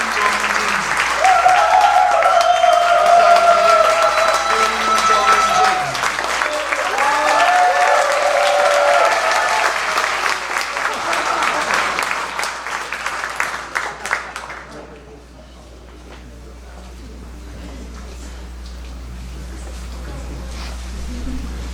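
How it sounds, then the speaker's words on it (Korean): A church congregation at an ordination thanksgiving service claps hard and cheers in a loud, sustained burst for about fifteen seconds, then the noise falls away quickly to a quiet room murmur. "아주 박수를 많이 치시고 환호성을 질러주셨는데"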